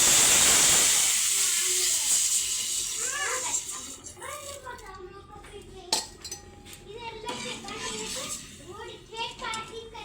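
Rasam poured into a hot pot sends up a loud, sharp burst of hissing steam that fades over a few seconds, followed by voices talking over light clinks of utensils.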